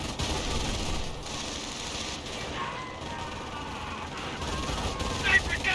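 Video game battle in Company of Heroes with riflemen trading fire against an MG42 machine gun. A steady, dense wash of rattling gunfire and combat noise runs throughout, with no voices.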